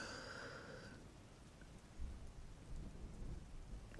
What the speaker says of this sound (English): The rain sounds very peaceful